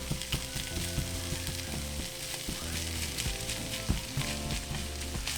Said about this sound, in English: once we have our meat on our frying pan, we're just going to continue breaking down our meat where it's finely shredded.